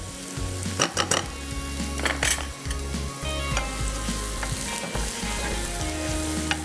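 Onions with garlic frying in a pan on a flame, a steady loud sizzle with occasional stirring scrapes and clicks throughout, no voices.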